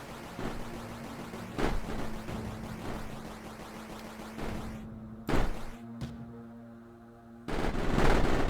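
Gunfire from units in the factory strategy game Mindustry, a steady stream of rapid shots over a low hum, with sharp louder bursts breaking in at intervals and no talking.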